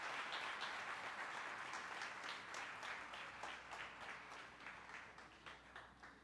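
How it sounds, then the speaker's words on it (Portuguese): A church congregation claps together in applause, a dense burst of many hands that thins into scattered, uneven claps as it fades out. "Você pode dar uma salva de palmas para Jesus?"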